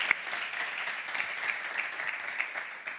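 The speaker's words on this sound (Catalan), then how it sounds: "dels pericos et portes un aplaudiment" Light applause on a Catalan talk show, scattered hands clapping fairly faintly and steadily for a few seconds, with no voices over it.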